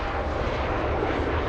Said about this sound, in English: Now it's starting to sound more like LA flights, Kevin.